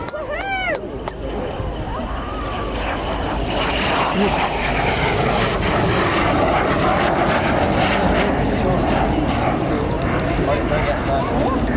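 An aircraft flies at the RAF Cosford airshow with a broad, rising engine roar that builds and holds. A voice is heard over it early on.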